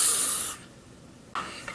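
A hissing spray burst sounds for half a second, then stops, and a second spray starts about a second later, close and fairly loud.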